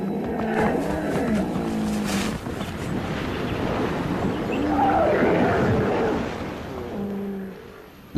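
Hippopotamuses fighting in water, with deep bellowing roars and grunts, heavy splashing and churning, loud and close throughout, no talk.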